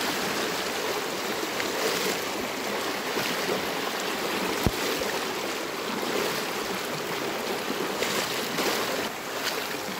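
The Mero River flows steadily through the forest, a constant broad rush of water heard close and loud for the whole stretch, with one brief knock in the middle.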